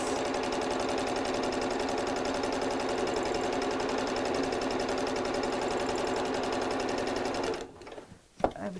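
A sewing machine stitches fabric for an autumn cushion with a fast, steady mechanical rattle for several seconds. It then stops abruptly, leaving a few faint handling clicks.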